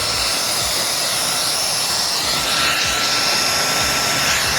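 A hair dryer fitted with a diffuser blows steadily on hair, giving a loud, constant rushing whoosh close by that runs without a break.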